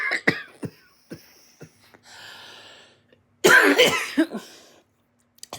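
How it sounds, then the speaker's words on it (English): Several coughs from one nearby person, spread unevenly across the stretch, with a longer, harsher burst of throat-clearing coughs in the middle and a faint breathy rasp between them, no talking. "Sorry for the coughing."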